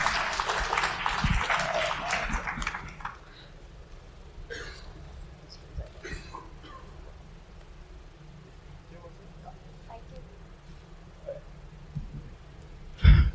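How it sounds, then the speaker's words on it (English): An audience at a fundraising panel discussion claps for a panelist, with a brief burst of clapping at the start that dies away after about three seconds, followed by quiet room noise, scattered thumps and faint voices. "Can we have a huge round of applause for Rakshit?"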